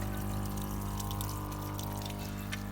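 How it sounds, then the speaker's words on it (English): A Frigidaire Acqua Twin washer's drain pump runs on its flush cycle, pushing water out through the drain hose with a steady low motor hum under a continuous rushing, pouring flow of water, fairly quiet and unbroken. "it is pumping that water out without it going through the strainer, through the drain hose."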